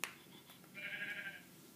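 A Minecraft sheep gives one faint, short bleat after a brief click, sounding a little distant over a quiet background, with no voices.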